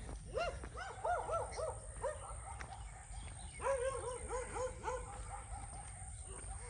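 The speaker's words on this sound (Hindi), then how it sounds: "कुत्तों का एक ही इलाज, उनको इग्नोर करें, क्योंकि वो तो भौंकते ही रहते हैं।" Several village dogs bark in repeated volleys at moderate distance, with a short pause and then another run of barks; steady low background noise throughout, no talk.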